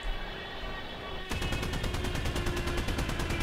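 Four Maxim machine guns open fire together in War Thunder after a quiet engine drone. The sustained, rapid, evenly spaced rattle is loud and close and runs to the end, with no talk over it.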